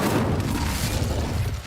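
An Incendio fire spell from Hogwarts Legacy goes off as a loud, rumbling whooshing blast of flame, a dense booming burst that fades slightly at the very end.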